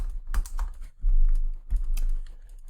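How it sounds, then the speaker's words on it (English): Close, fast keystrokes on a computer keyboard come in quick bursts with short gaps, clear and alone without talk. "We'll type in YouTube and click here to view."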